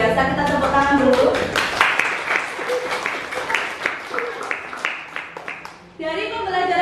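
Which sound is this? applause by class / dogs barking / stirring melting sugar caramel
applause by class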